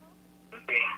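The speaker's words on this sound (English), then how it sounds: "This must be somebody trying to call me." An incoming call sounds from a phone, with a short tone burst followed by a louder, sustained electronic ring that is near and clear above a steady low hum.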